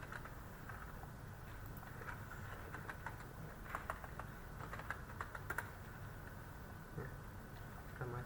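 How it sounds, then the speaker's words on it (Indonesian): Keys clatter on a computer keyboard during a MikroTik login, a steady stream of soft close clicks over a constant background hum, with no voices. "lalu saya ketikkan"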